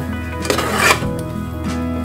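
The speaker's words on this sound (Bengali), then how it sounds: "কড়াইয়ের থেকে কিন্তু সাইডের থেকে যেগুলি লেগে আছে ওগুলো কিন্তু ছাড়িয়ে নিতে হবে।" Carrot dough being scraped and stirred off the sides of a wok, giving close, continuous scraping and rubbing of utensil on metal with a louder scrape near the middle, no talking.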